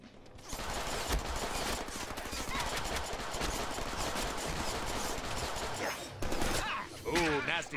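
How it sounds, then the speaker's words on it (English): Sustained machine gun fire in a Deadpool video game, a fast, steady rattle of shots running for several seconds with brief breaks, and a voice cutting in near the end. "Now I have a machine gun!"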